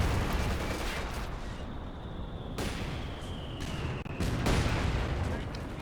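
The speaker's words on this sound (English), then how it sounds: "the mortar pit is actually blowing up Allied mines" Mortar fire and mine explosions in a World War II strategy game, a dense continuous roar of booming blasts and crackling gunfire with several sharp bursts, loud throughout.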